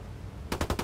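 Video game gunfire breaks out as a rapid automatic burst of five or six close, loud shots after a brief stretch of low rumble.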